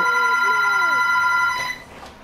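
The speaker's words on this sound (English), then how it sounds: "Yo, who's freaking calling you? Stupid house phone." A house phone rings loudly and close, a bright electronic trill with sustained tones, then cuts off partway through, leaving quiet background.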